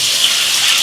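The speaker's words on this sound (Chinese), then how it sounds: "加水。" Water poured into a hot wok of spiced oil and bean paste, giving a brief, steady rushing gush up close with no voices.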